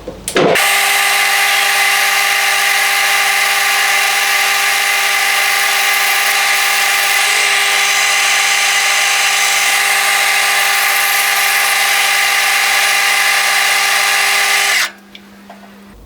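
Metal lathe parting off a drive piston for a hot air engine: a steady loud motor drone with a constant tonal hum and cutting whine running about fifteen seconds, then stopping abruptly; no talking.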